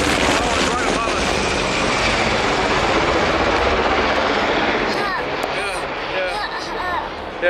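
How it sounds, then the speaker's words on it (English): A helicopter passes directly overhead outdoors, its broad roaring rotor noise loud and steady throughout, with no talking. "you see the helicopter? Whoa. Where's it coming from? It's really cool. Oh, it's right above us."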